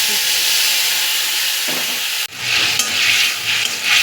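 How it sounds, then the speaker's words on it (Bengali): Spice paste mixed with water hits hot oil over fried potatoes in a Bengali potato curry, a broad steady sizzle that surges louder and brighter after a brief dip, continuing as a close hissing fry with light stirring. "মশলাটা ভালো করে কষিয়ে নেব"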